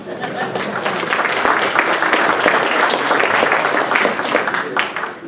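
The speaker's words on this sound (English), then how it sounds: "Give an applause for yourself" Steady applause from an audience at a business workshop, loud and sustained throughout, with scattered chuckles mixed into the clapping.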